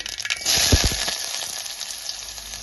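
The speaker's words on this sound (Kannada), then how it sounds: "ಇದಕ್ಕೆ ಸಾಸಿವೆ ಹಾಕೋತಾ ಇದ್ದೀನಿ." Mustard seeds splutter and pop in hot oil in a pan as a sambar begins, a dense, crackling sizzle with a few sharper pops near the start.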